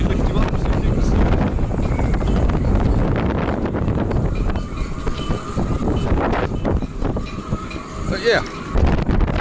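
Strong wind blows outdoors, buffeting the microphone in a steady, roaring rumble throughout, with a person talking briefly over it.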